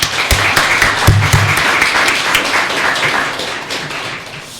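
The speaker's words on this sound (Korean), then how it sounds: "다시 한번 우리 축하의 박수 한번 주십시오." A church congregation gives warm applause during a Christmas Sunday service, a dense, steady wash of many hands clapping that holds for several seconds and slowly fades, with no speech over it.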